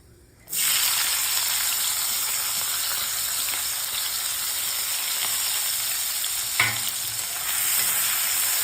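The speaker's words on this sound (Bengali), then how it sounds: "তেলে আমি এখানে পেঁয়াজ টমেটো আর এখানে কাঁচা লঙ্কা আছে এগুলো সব আমি তেলের মধ্যে দিয়ে দেবো" Onion, tomato and green chili hit hot oil with a sudden loud, dense hiss that stays steady and close, broken briefly by a faint clink partway through.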